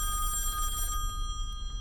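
A telephone rings inside the horror game Song of Horror, a bright electronic trill that sounds once loudly, then cuts off and leaves a faint quiet tail.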